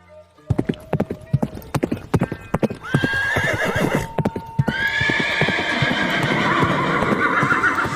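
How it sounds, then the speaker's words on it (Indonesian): A king's favourite horse is ridden off toward the forest: a quick run of sharp, close hoof clip-clops opens the sound, then a loud whinny breaks in, followed by a second, longer neigh over continued hoofbeats. "Lalu Prabu pergi menaiki kuda kesayangannya"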